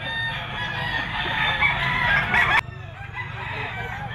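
A gamefowl bull stag rooster, a gold white-legged bird, crows once loudly and close in a long drawn-out call that ends abruptly, followed by quieter background clucking and a faint voice.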